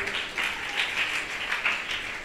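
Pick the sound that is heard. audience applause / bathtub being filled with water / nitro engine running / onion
audience applause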